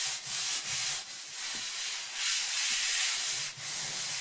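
A green Scotch-Brite pad scuffs a coated surface on a computer base, making a continuous close, hissing rub in back-and-forth strokes with brief pauses and no talking.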